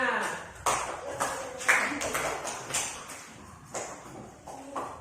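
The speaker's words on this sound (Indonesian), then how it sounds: "Ya, kasih aplaus untuk temannya" Classroom applause for a classmate, heard as a few scattered, sharp claps and taps that come irregularly and fairly faintly, with a teacher's voice and children's speech around them.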